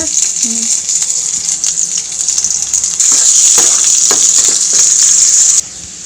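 Onions frying in plenty of oil for a brinjal curry, a steady close hiss that grows louder midway and drops off near the end, with faint stirring ticks underneath.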